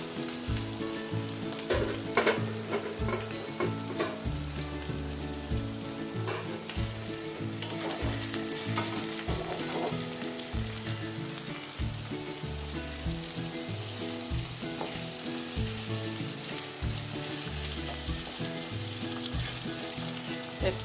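Garlic frying in mustard oil in a wok along with onion and green chili, a dense steady sizzle heard up close for a long stretch, broken by repeated spatula scrapes and stirring clatter, with no speech.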